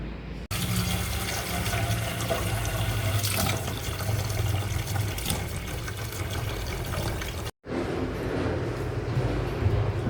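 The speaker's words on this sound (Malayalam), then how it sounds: "ഇതിപ്പോൾ 2-3 വട്ടം വെള്ളത്തിൽ കഴുകിയെടുക്കണം" Running tap water pours steadily into a sink for several seconds while washing soya chunks, cuts off briefly, then resumes with a lighter, splashing flow.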